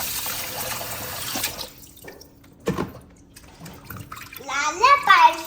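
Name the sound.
washing raw chicken with water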